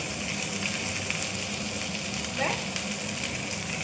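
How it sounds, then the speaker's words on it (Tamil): Onion and chili tempering sizzles as it is poured into a dish, a steady crackling hiss throughout with a brief splash near the middle, close and fairly loud. "இப்படியே தாளிச்சு கொட்டிடுங்க"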